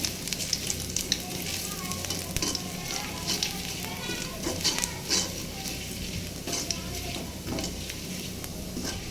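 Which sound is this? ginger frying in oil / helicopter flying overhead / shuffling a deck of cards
ginger frying in oil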